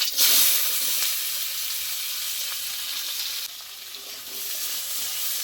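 Chopped onion drops into hot oil with whole cumin seeds in a kadai, setting off a loud, steady hissing sizzle that bursts up at the start and then settles into a continuous fry.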